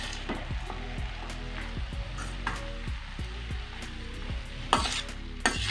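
Thumbai keerai rice being mixed in a hot pan for a Tamil village dish. A spoon scrapes and stirs in a steady rhythm over a constant sizzle, with a couple of louder clanks near the end.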